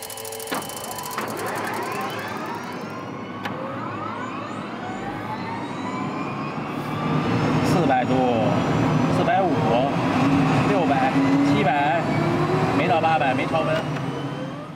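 A Soviet-era tank engine with a turbine starts up and runs, its whine climbing steadily in pitch and swelling louder partway through, close and continuous, with voices faintly underneath.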